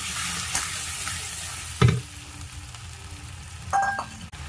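Onion, garlic, ginger and tomato paste fry in a pan for a home-style egg curry, giving a soft continuous sizzle with a few scraping stirs, a brief beep, and a click near the end.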